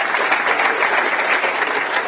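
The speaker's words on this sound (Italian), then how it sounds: "E un applauso a tutti" A crowd at a sports club celebration applauds loudly, a dense continuous wash of many hands clapping with no pauses, close and full.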